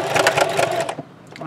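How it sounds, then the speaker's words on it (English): A sewing machine back stitches a tote seam sewn from Dollar Tree lemon placemats, running in quick close bursts for about a second before stopping. "And at the top, I'm going to back stitch like several times"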